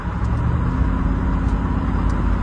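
A truck with a 4L60E automatic transmission and a Power Wheels shifter being shifted into fourth gear, heard as a loud, steady engine and road drone from inside the cab with no distinct shift change.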